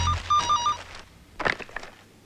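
A telephone rings in short electronic trills, a couple of bursts fading out, followed by faint rustling and movement in a room, with no talking.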